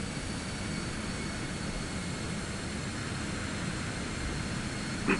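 A Citation X's jet engines in Microsoft Flight Simulator 2024 on PS5 give a steady, even roar with broad rushing noise throughout, uninterrupted and without speech.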